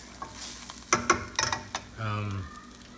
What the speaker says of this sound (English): We're gonna stir this, gonna mix the ingredients.